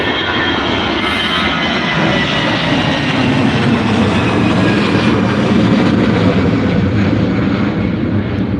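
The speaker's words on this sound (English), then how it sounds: "There's the easyJet A319 to Amsterdam." An easyJet Airbus A319 jet departs from an airport, its engines producing a loud, steady broadband roar that persists throughout without any talk.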